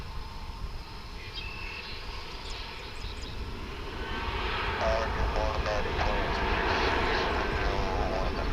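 A Japan Airlines jet airplane at Dallas/Fort Worth International Airport gives a steady engine roar that swells louder partway through, with a person talking over it.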